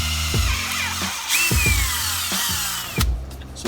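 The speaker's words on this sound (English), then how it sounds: "So this is a pipe threader that's being manually entered so that we can add threads into the plastic" Manual pipe threader cutting threads into plastic pipe for a pool enzyme feed pump line, heard up close as loud rhythmic grinding turns with squeaky scraping between each stroke.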